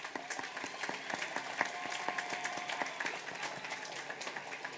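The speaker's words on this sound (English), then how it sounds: "Let's give our honor students a round of applause." A graduation audience claps steadily for honor students at a W.F. West High School 2023 ceremony, many hands applauding together in a large hall with a sustained, even roar.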